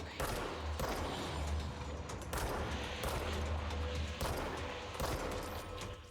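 Enemy gunfire in the game Control comes in repeated rapid bursts of crackling shots with deep rumbling impacts, loud and dense, broken by brief pauses.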